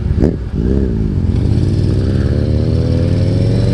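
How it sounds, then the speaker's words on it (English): Kawasaki Z900 motorcycle fitted with an aftermarket exhaust revs loudly up close, with a sharp throttle blip followed by a deep, steady, rumbling engine roar held for several seconds. "he changed the exhaust. That's why it's loud like that."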